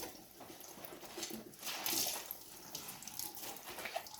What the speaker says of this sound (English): Have the cold water tap running, so your hands can be cooled down in between.